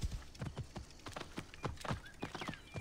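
Horse hooves clip-clop in a steady trotting rhythm in Assassin's Creed Origins, close and fairly loud across the stretch, with no talking over them.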